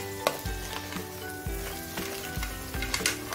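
Crab curry sizzles and bubbles in a pan while being stirred, with repeated scraping strokes against the pan bottom over a steady close frying hiss, no talk.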